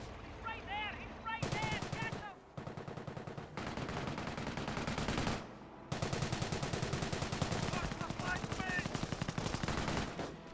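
Machine gun fire in Company of Heroes rattles in long, dense bursts separated by short pauses, loud and close, with occasional voice calls mixed in.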